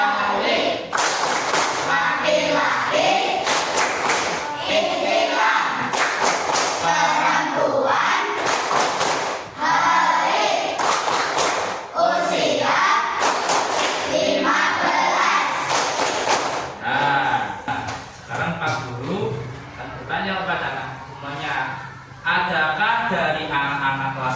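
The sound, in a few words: class doing the 'tepuk tanda baligh' clapping routine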